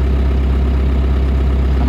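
A John Deere 2140 tractor engine runs in a steady, close, loud low drone for about two seconds, holding an even pitch without a clear rise in revs.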